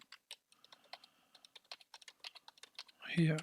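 Keys clatter on a German computer keyboard in a quick irregular burst of close, crisp clicks, ending with a brief louder thump or voice.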